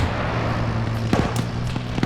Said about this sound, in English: Here, I'm gonna blind fire.